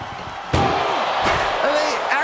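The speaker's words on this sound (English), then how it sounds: "Trying to force the first door closed." An ambulance door is slammed shut during a WWE SmackDown Extreme Rules ambulance match between Roman Reigns and The Rock, giving two loud, sharp bangs about a second apart over crowd noise.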